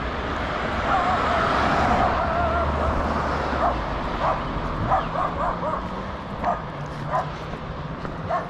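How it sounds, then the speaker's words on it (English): Several small dogs yap and bark in short bursts during an outdoor neighborhood walk, with the sharp barks set against steady background noise and passing traffic. "it's always those little dogs"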